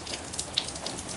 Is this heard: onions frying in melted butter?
no